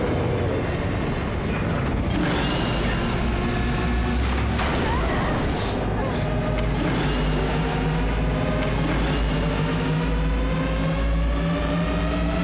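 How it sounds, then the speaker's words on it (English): A vehicle engine revs up steadily with rising, drawn-out tones over a continuous low rumble, loud and close throughout. "As if an engine was revving up."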